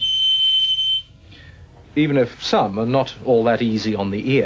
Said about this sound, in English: whatever this microphone picks up is being fed to this loudspeaker, back to this microphone, to this loudspeaker, round and round and round in a self-perpetuating shriek of energy